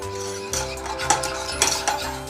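A whisk scrapes and clinks quickly against a bowl while mixing a custard, in short uneven bursts of metallic stirring, close and moderately quiet with no talking.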